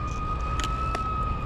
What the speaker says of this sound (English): I'm watching that ambulance because he's getting closer.